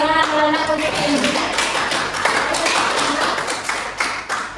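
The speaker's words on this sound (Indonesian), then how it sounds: "Tepuk tangan anak-anak untuk Indri." Children clapping in a classroom, a lively burst of many small hands with uneven rhythm, mixed with a brief voice and room chatter at the start.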